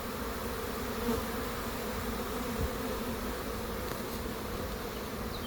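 Honeybees from a swarm circle a nearby hive box, producing an even, unbroken drone of wings that holds steady the whole time, with occasional slightly louder passes.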